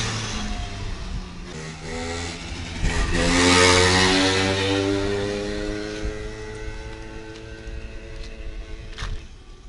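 A prototype scooter moped engine runs close by, its buzzy note rising as it accelerates, peaking, then easing off into a steady, fading drone, with a restricted exhaust.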